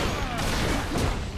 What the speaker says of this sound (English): Dodge one explosion only to get hit by the next one.